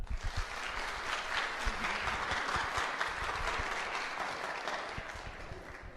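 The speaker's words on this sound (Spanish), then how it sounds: "Un aplauso." Audience at a Spanish-language talk applauds a speaker being introduced, with a full, sustained round of clapping, a few sharper claps near the start, then a slight fade at the end.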